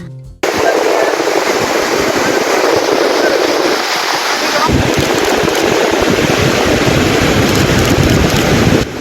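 Heavy water released from the Mettur dam on the Cauvery rushes in a constant, loud roar with wind buffeting the microphone, a dense unbroken wash of flowing water lasting the whole stretch.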